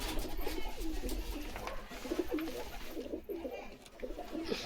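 Young Andhra/Madras breed pigeons coo in soft, repeated low warbling phrases close by, over a faint background hum.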